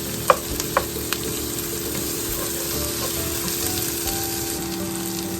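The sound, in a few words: ingredients frying and browning in a pan for jollof rice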